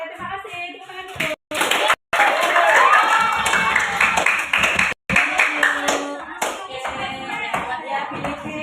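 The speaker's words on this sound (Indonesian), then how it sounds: "Tepuk tangan dulu." A school class clapping hands together in a classroom, a lively burst of mixed clapping with children's voices and cheering, interrupted by a few abrupt cuts.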